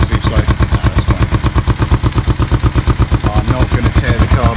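Kawasaki EN450 bobber motorcycle, running rough, idles loud and close with a rapid, steady, lumpy putter of firing pulses that never lets up.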